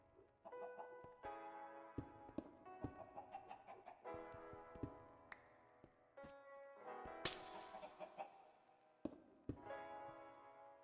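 Glass blocks breaking in Minecraft's ATM9 modpack, a series of crisp shattering bursts spaced irregularly over a quiet game background, one especially loud crash near the end.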